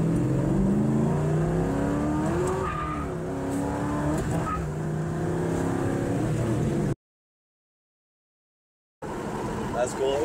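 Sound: 1970 Nova car with 350 engine accelerating

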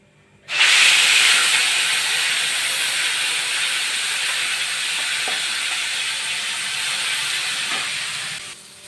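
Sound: tempering cumin and mustard seeds in hot oil

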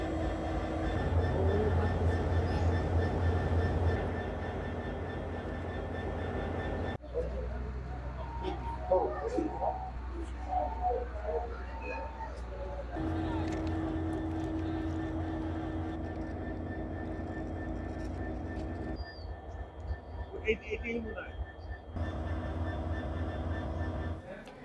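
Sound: train running on Padma Bridge rail link

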